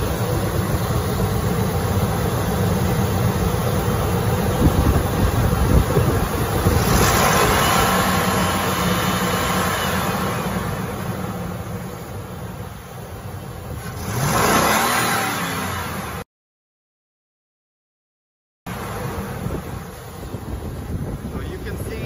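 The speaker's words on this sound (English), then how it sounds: "I'm going to give it throttle" Car engine revved under throttle while a fuel pressure gauge is watched, on a vehicle with a fuel pressure fault causing a severe lean condition; rises and falls over about twenty seconds amid heavy wind noise, with a short dropout near the end.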